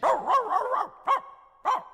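A dog playing a nursemaid in a stage production of Peter Pan gives a burst of several close, loud barks, then two more single barks after short pauses.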